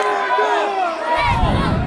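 Young Regar football fans at a Tajik match shout and cheer together in a loud, close crowd chant, voices rising and overlapping before a heavier roar joins in.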